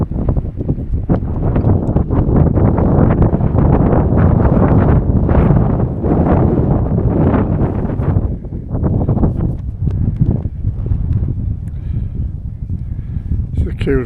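Strong wind on Mungrisdale Common, a Lake District fell, buffets the microphone in a loud, continuous rumble with gusty surges, and a voice can be heard faintly now and then.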